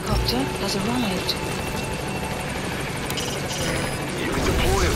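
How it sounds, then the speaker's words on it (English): A support helicopter in Metal Gear Solid V makes a steady, loud rotor drone as it arrives at a landing zone, with radio voices speaking over the continuous thrum. "support helicopter has arrived."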